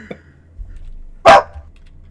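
A dog gives a single sharp, loud bark close by, after a faint short sound and low background hum.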